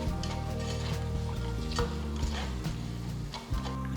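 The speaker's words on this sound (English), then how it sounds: "Now add 2 green chilies slit, a few fresh curry leaves, a pinch of turmeric powder and a little salt and mix everything together." Slit green chilies, fresh curry leaves, turmeric powder and salt stirred into an onion mixture in a kadai, a soft steady sizzle under repeated scraping and tapping of a spoon against the pan.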